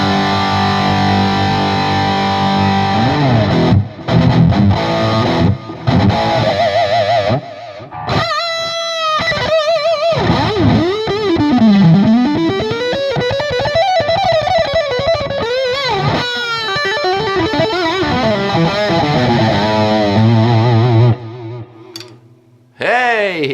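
Electric guitar played through an MXR Super Badass Distortion pedal, loud and heavily distorted, with sustained bending notes and chords across a long continuous passage and a few brief pauses before it fades at the end.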